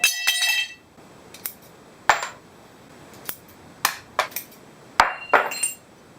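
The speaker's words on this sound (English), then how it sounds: "you need really quite a big pair of scissors to get through that. So I'm just going to cut this out" Big pair of scissors cutting through 3mm thick metal for a bracket, giving a string of sharp, irregular metallic snips and clinks, close and fairly loud, with quiet pauses between cuts and no talking.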